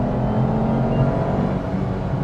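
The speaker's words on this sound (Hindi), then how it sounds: "The car is in sports mode, so currently it is giving me all the power there is. Let's do a little pull." A Renault Kiger in sports mode accelerating hard, a loud, close engine roar holding steady and strong over a brief pull with a deep rumbling tone.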